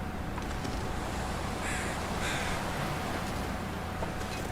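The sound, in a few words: bird calling, likely a crow, in the video game The Long Dark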